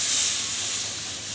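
Water poured onto a hot tava for making jowar bhakri gives off a short, steady hiss that fades slightly, heard alone and close.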